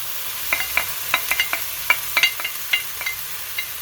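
Quiet sizzle of onions and peppers frying for menemen, with a series of sharp clicks and scrapes, like a utensil stirring food in a pan, irregular and close.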